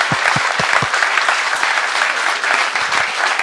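A crowd at an open campaign meeting in Kraków breaks into loud, continuous applause, with a few heavy rhythmic thumps near the start before the clapping settles into a dense, even roar.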